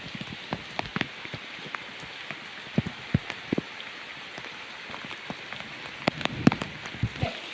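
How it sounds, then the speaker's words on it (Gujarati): A heavy downpour in Piparla falls steadily with a soft hiss, punctuated by distinct drops and drips tapping nearby at irregular moments. "જવા ધોધમાર વરસાદ શરૂ છે"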